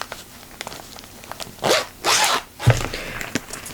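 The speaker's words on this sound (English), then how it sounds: "Sorry for the zipper." Zipper pulled open or closed in two quick drawn-out rasps close by, followed by a soft thump and light handling rustles, with faint background noise.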